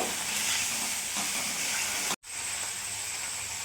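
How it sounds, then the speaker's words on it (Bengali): Rohu fish pieces are stirred with salt and turmeric in a hot pan, making a loud, continuous sizzle and hiss close by. The sound cuts out briefly for a moment, then resumes. "হলুদ গুঁড়ো দিয়ে দিলাম। ভালো করে মিশিয়ে নেব।"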